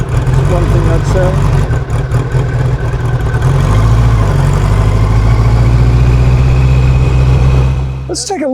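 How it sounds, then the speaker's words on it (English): Four-cylinder engine of an Ariel Square Four Mark II motorcycle rumbling at idle, a deep, steady throb that stays close and loud throughout, easing off in the final moment. "The four-cylinder that rumbles more like it's a V."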